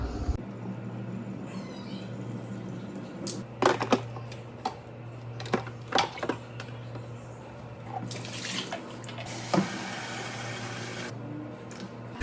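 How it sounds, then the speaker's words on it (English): Water splashes and trickles with sharp clatters and knocks of an AquaTru water filter carafe being emptied and handled, over a steady low hum, then a longer pouring rush of refilling near the end. "Always dump this water and then fill it back up."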